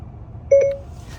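A short electronic activation beep from the Siri voice control in a Chevrolet Silverado/GMC Sierra cab, a single clear two-part tone over quiet cabin hum.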